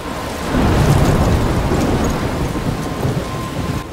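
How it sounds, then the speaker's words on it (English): Steady heavy rain pours down with rolling thunder rumbling beneath it in the video game Life is Strange, a dense continuous roar that holds loud throughout. "I'm trapped in a storm?"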